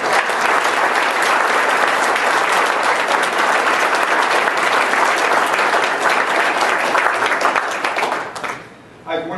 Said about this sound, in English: We just have a round of applause for each and every one of you.